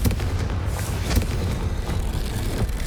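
Confringo fire spell blasts in Hogwarts Legacy, a burst of loud crackling booms and rumbling impacts that repeat through the moment, dense and close.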